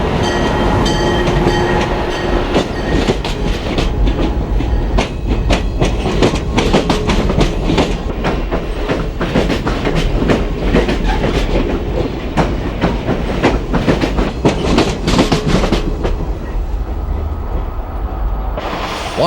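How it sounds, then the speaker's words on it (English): Trains moving through the Washington Union Station terminal area on the Northeast Corridor, a loud continuous rumble with rapid clickety-clack wheel beats over rail joints that eases off at the very end. "we'll experience a smorgasbord of equipment and trains as they arrive and depart Washington Union Station"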